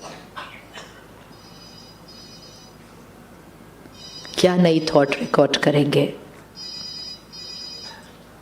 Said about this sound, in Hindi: फ़ोन क्यों बजता है?